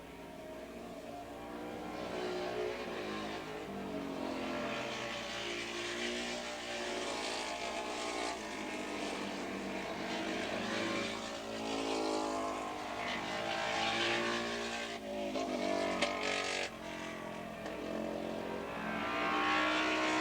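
Racing motorcycles, twins and 600cc singles in a 1986 ARRA club race at Willow Springs International, roar into turn 1 together. The engine noise is loud and continuous throughout, with rising and falling tones as several bikes pass close.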